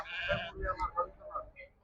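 Several short sheep bleats come one after another at a sheep and goat market in Chillakallu, Andhra Pradesh, fairly close and moderately loud, with no other sounds around them.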